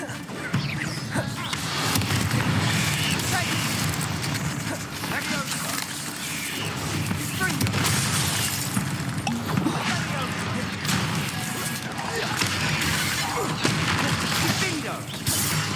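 Blasting spells crash and burst repeatedly in Hogwarts Legacy combat, loud smashing impacts and crackling debris stacked over busy battle noise for the whole stretch.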